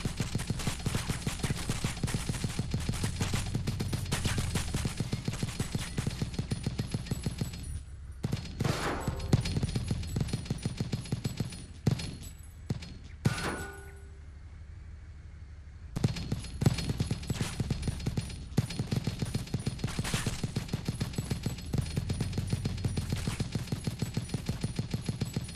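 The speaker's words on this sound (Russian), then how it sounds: "В движении можно стрелять" Rapid bursts of automatic gunfire in a video game rattle loudly and almost continuously, with a brief lull of scattered single shots in the middle before sustained firing resumes.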